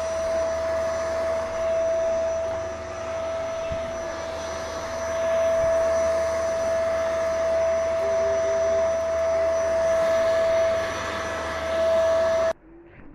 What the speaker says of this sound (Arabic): وبالمكنسه وبنزل بقى نضيف فيها